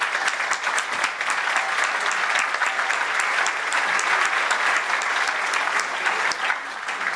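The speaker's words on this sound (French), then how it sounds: "je voudrais que vous applaudissiez, qu'on se fasse tous un grand bravo" Sustained applause from a conference audience, dense steady clapping from many hands that carries on for several seconds without a break.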